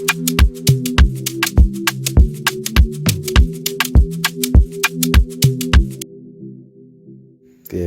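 Afrobeat drum loop programmed in FL Studio, with kick, conga and shaker in a steady repeating groove of sharp hits over a sustained tonal layer, loud and upfront, cutting off abruptly near the end.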